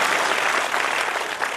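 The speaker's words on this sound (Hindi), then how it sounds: "अभी ताली तो जोर से बजाओ।" An audience at a Brahmakumaris diabetes event in Rajkot claps loudly and continuously, a dense, even wash of applause with no gaps.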